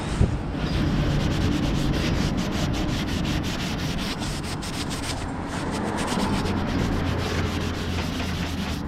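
Steady, close rubbing of auto paste being worked over rust spots on a car's body, a continuous gritty scrubbing that runs without pause.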